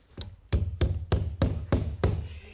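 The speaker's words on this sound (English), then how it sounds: "Get me a hammer and nail, quick." Hammer driving a nail during a slapstick DIY scene: a short faint tap, then five loud, evenly spaced thuds close by, with no talk over them.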